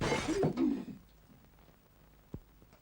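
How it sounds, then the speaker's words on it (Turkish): Window glass shatters after a thrown stone strikes it, a loud crash with scattering shards in the first second, then near silence broken by one small knock. "Kırıldı ya. Sana hiçbir cam dayanmaz Abdi abi."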